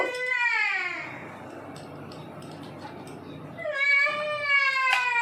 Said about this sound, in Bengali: দেখছেন তো কেমন কান্নাকাটি করছে।